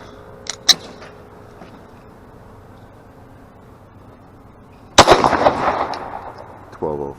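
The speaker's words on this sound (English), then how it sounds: "Speer Gold Dot through the Glock 19 Gen 4." A Glock 19 Gen 4 fires a Speer Gold Dot 9mm round, one sharp, loud crack followed by a short rumbling decay, after a couple of faint clicks and handling noises.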